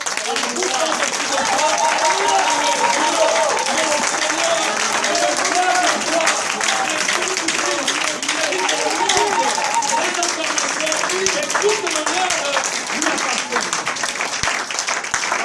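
An evangelical church congregation in Le Mans applauds loudly and continuously for about fifteen seconds, with dense clapping and a voice faintly underneath.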